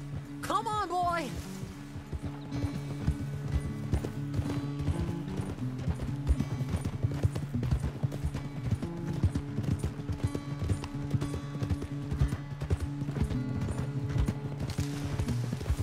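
Horse hooves clip-clop steadily at a lively gait in the Red Dead Redemption 2 game, with a brief whinny at the start, a musical score underneath and voices talking over it.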